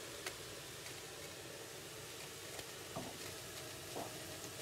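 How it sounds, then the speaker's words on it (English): Spinach and scallions fry in oil in a pan, giving a quiet, steady sizzle with a few soft clicks and stirring taps scattered throughout. "Add a little bit of oil to your pan. Add in your spinach and your scallions."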